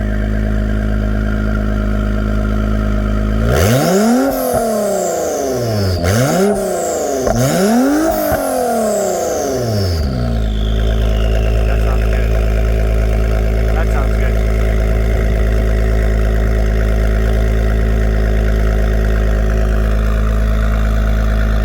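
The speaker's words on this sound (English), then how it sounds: "I'll just let you guys listen in on the exhaust sound" 2020 Acura NSX hybrid exotic fitted with aftermarket downpipes, three sharp revs rising and falling back to back, then the engine settling into a steady loud idle, recorded close with no talk.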